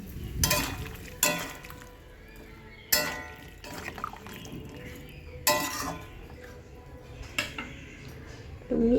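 Vegetables for Bengali shukto stirred in a pan with a little warm water, a metal spoon scraping and clinking against the pot in several sharp bursts, with a faint clank near the end as a lid goes on.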